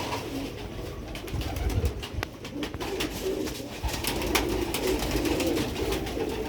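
Pigeons cooing in a loft, with repeated soft, throaty coos rolling on over several seconds, close and steady, while faint rustles and clicks sound in the background.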